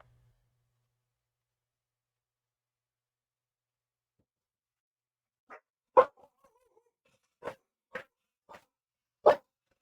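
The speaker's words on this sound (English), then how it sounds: "My dog has my warning system. They let me know whenever anyone is at the door." A dog barks at someone at the door in a quiet room: about five short, sharp barks spaced irregularly after several seconds of silence, fairly close.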